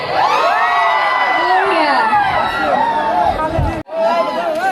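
A large crowd cheers, whoops and shouts loudly at a Rongali Bihu stage program, with children's voices rising above the sustained roar. The noise breaks off briefly near the end, then swells again.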